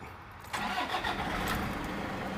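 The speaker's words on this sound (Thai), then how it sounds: "ลองสตาร์ทดูก่อนนะครับว่าเครื่องยนต์ทำงานปกติหรือเปล่านะครับ" A diesel car engine cranks and catches after a brief quiet moment, then settles into a steady idle hum, close by.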